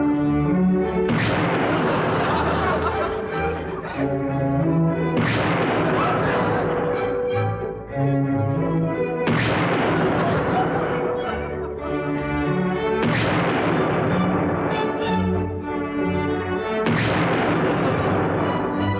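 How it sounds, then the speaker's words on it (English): Comedy rendition of the Blue Danube waltz punctuated by explosions, orchestral music playing continuously with repeated loud booms landing roughly every few seconds throughout, dense and loud. "Now over to the exploding version of the Blue Danube."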